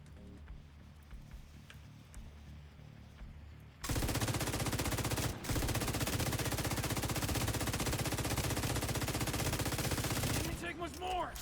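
Rapid gunfire in a video game where the player uses a shotgun, a loud dense barrage of shots running almost continuously for several seconds after a quieter opening, with a brief break midway.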